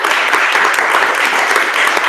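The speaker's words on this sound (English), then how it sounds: "So a quick round of applause." Audience at a live San Francisco Bitcoin meetup applauding an artist, a loud, dense and steady wash of clapping with no talk over it.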